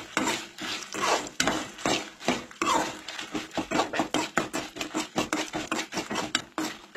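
Mirsango beans dry roasting in a pan, stirred so they rattle and scrape against the metal in a steady rhythm of rough, close strokes, with no voices.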